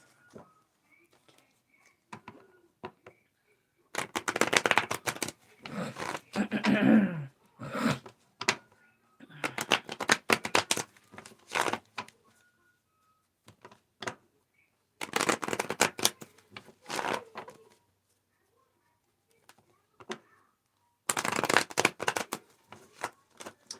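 Tarot cards shuffled by hand in several bursts of dense riffling and flicking, close and fairly loud, separated by short quiet pauses.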